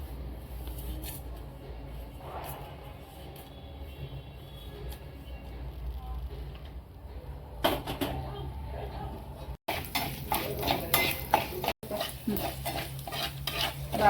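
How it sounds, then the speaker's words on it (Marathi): Millet, chana dal and rice roasted in oil in a pan, stirred with a spoon that scrapes and rattles against the metal, quiet at first then busier, more rhythmic stirring in the second half. "बाजरी चणा डाळ आणि तांदूळ असे लालसर होईपर्यंत परतून घ्यायचे"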